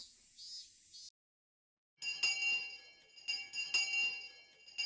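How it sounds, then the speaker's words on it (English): A school bell chime in the Higurashi When They Cry visual novel, a soft bright ringing tone that stops, then after a silent gap returns as repeated faint metallic bell strikes. "School bell, school bell."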